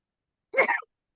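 One short, abrupt sneeze, close and fairly loud, stands alone against complete silence.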